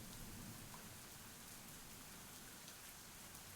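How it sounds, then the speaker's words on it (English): Steady rain falls in a dense, even hiss through a rainy scene in the game I Wani Hug That Gator, with no break and no voices, soft and continuous throughout. "the rain continues to bear down on us"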